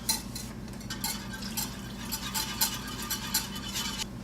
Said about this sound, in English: keep whisking that in there